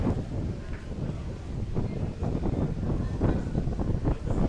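Outdoor wind in Key West, Florida, buffeting a handheld microphone as a steady broadband rumble with gusty swells throughout, loud and continuous with no speech over it.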